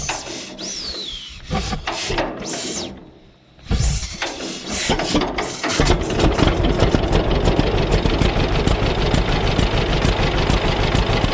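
A small engine driving a sawmill sputters through a few uneven start attempts with gaps between them, then catches and settles into a loud, steady idle with a rough, raspy mechanical chatter.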